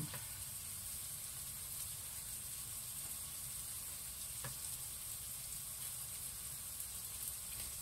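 Vegetables wilt in a hot pan with a soft, steady sizzle and faint hiss that continue throughout, quiet and close, with an occasional light tick of stirring.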